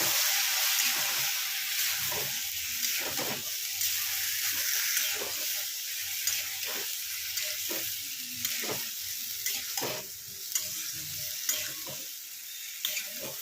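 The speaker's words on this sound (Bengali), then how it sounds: "এতে একটু জলের ছিটে দিয়ে দিলাম" Okra curry in a hot pan hisses and sizzles after a splash of water, close and steady, with repeated spatula taps and scrapes ticking through it, no talking.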